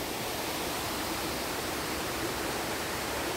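Spring water trickling off a tree leaf into a bottle at a village water hole near a temple, a steady close, even rush of falling water with no pauses and no voices.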